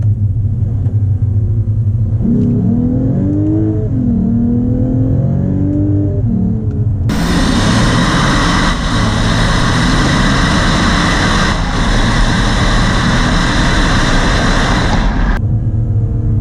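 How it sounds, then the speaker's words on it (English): A loud sports car engine idles with a deep rumble, then rises in pitch through a couple of revs before roaring sharply higher and holding, close by. "I can't just simply just kind of sneak by and really turn it up and get the RPMs up."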